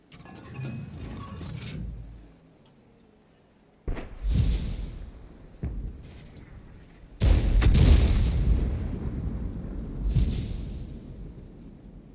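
Tank cannon shells fire in World of Tanks: several heavy booming shots spaced a few seconds apart, each with a long rumbling decay, loud and close with little talk around them.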